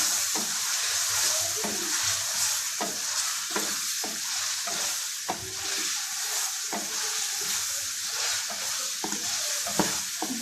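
Tinda (apple gourd) being stirred into frying masala in a pan, a constant sizzle punctuated by regular scraping strokes of the spoon, close and fairly loud with no talking.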